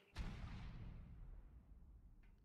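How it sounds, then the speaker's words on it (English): A cannon fires once in ARK Survival Evolved, giving a sudden loud boom followed by a long rumbling decay that fades over about two seconds. "So this is all I'm getting out of this cannon, so I might as well make it count."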